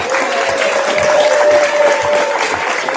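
Steady applause fills a children's fashion show runway for about three seconds, a dense, even clatter of many hands with a faint voice underneath.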